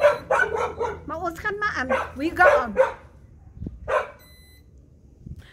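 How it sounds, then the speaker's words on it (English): A dog barks outdoors as a motorbike drives past, with a few short barks mixed under and just after someone speaking. "Now this dog decides she must bark because a motorbike is driving past."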